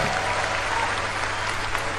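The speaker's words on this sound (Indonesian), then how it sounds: "Tepuk tangannya kurang semangat." An audience at a political speech applauds in a dense, steady burst of clapping that runs at an even level for the whole two seconds.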